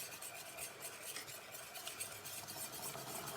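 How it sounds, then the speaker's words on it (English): Whisk stirring white sauce in a pan, a continuous quiet scraping and swishing with rhythmic strokes close by, faint sizzle beneath and no talking. "So obviously whisking."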